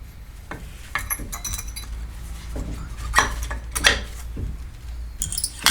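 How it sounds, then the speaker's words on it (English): Metallic clinks and clicks as brake pads are pried out of their caliper clips on a BMW E92 M3, several sharp taps and rattles at close range, with no speech. "They are held in with some clips and should pop right out."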